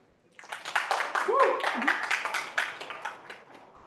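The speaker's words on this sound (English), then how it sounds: "let's give a clap for Erin." A small meetup audience in New York City gives a brief round of clapping, a moderate patter of scattered hands rising quickly and tapering off, with some voices mixed in.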